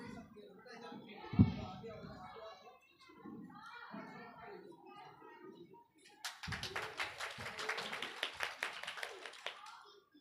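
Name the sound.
applause at school prize ceremony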